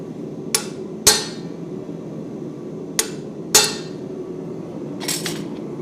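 Hammer blows on hot metal being split over an anvil at a blacksmithing guild meeting, about five sharp ringing strikes spaced irregularly over a low background hum.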